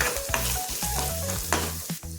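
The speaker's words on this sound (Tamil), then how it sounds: "ஒரு நிமிஷம் கிண்டி விட்டுக்கிறேன்" Vegetables for samosa filling sizzle steadily in a hot pan as a utensil scrapes and stirs through them, with a few clinks against the metal.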